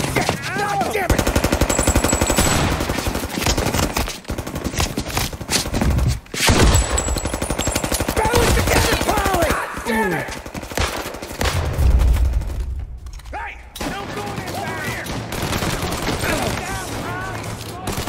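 Gunfire in the video game Mafia: Definitive Edition, rapid machine-gun bursts and loud shots rattling almost continuously, with character voices and shouting mixed in and a brief lull near the middle.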